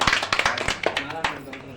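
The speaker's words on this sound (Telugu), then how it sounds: "చప్పట్లు కొట్టండి కాస్త" Audience at a cow-service ceremony clapping in a quick, uneven patter of close hand claps, with a voice speaking over them.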